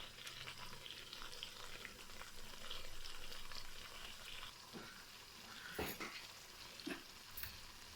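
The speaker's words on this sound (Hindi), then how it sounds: "मैंने मसाले को अच्छे से भून लिया।" Spices sautéed in oil for a peas and egg salan, a faint continuous sizzle with a few sharper stirring clicks near the end, quiet and close.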